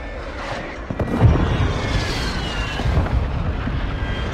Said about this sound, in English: Requesting fire missile. Target marked. Copy. Mortar strike inbound now.